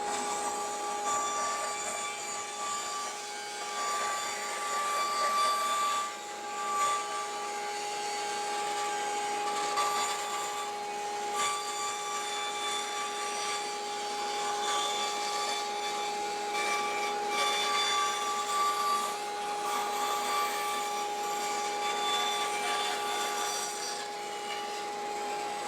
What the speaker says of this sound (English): As we complete the cut, we turn off the bandsaw, wait for it to come to a stop, and there's our circle